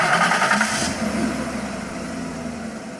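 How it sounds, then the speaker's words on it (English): A V8 car engine in the visual novel game If My Heart Had Wings starts with a sharp burst, then settles into a fading, moderately loud rumble as the car pulls away. "Okay, that sounds like a V8."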